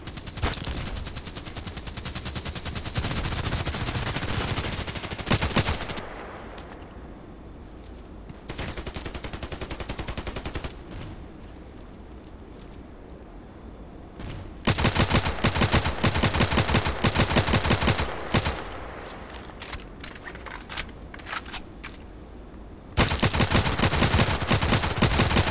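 Gunfire in the online shooter Contract Wars on a bridge map, with long-range shots: loud bursts of rapid shots come in several clusters, separated by quieter stretches of game ambience.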